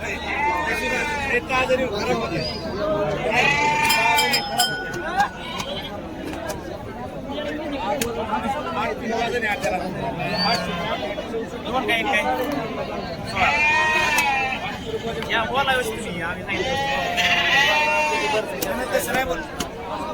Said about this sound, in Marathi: ह्या अशा क्वालिटीमध्ये अजून आपल्याला मेंढ्या पाहायला मिळतील